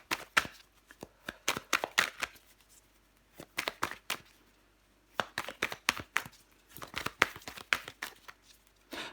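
Tarot cards being shuffled, handled and laid down during a reading, with bursts of crisp papery slaps and riffles in clustered runs, close and fairly quiet, separated by short pauses.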